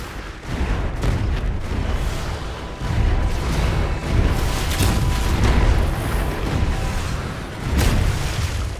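Repeated heavy booms and blasts of explosions during an attack in the Anno 2205 Arctic sector, several thumping impacts over a rumbling, noisy battle backdrop.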